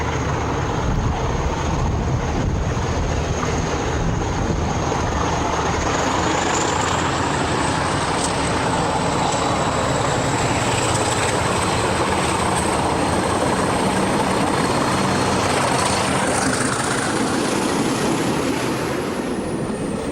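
A heavy Portuguese CP 1800 class diesel locomotive engine roars continuously at close range, with a steady high whine riding above the broad rumbling drone.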